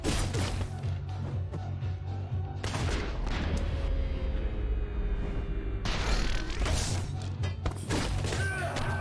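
Gunfire in the video game Katana ZERO comes as dense bursts of shots and crashes, loud and clustered, with a brief quieter stretch in the middle before another barrage.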